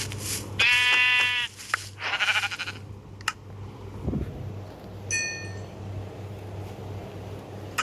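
A goat bleats in the Minecraft video game, a loud drawn-out cry followed by a shorter bleat, with a few faint clinks and a later thin bleat over quiet game ambience.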